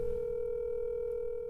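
A telephone call being placed: a steady, continuous dial or ringback tone holds at an even level throughout, close and clear, with no voices.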